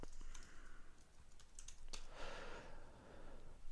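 Rapid clicking keystrokes on a computer keyboard, close and quiet, continuing steadily with a brief burst of heavier presses midway, no voice present.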